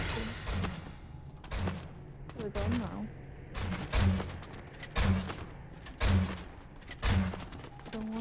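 Zombies firing guns in an escape room video game: a steady series of punchy shots and thuds about once a second, with a voice talking underneath.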